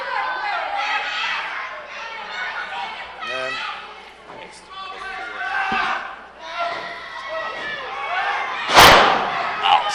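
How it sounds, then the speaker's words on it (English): A wrestler is slammed onto the ring at a wrestling event, with a sharp, loud thud standing out near the end above steady crowd noise and announcers' commentary running throughout. "Slams him down. What impact!"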